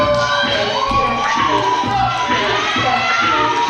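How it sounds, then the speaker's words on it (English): A packed wrestling arena crowd jeering and shouting, a dense continuous roar of many voices with scattered yells and thumps, loud and unbroken throughout. "Definitely the crowd letting them have it."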